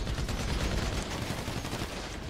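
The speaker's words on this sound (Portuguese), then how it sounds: "da onde eu tô tomando tiro?" Dense, rapid gunfire in GTA V Online crackles continuously for a couple of seconds, a sustained burst of overlapping shots with heavy low-end thumps, loud and without pause.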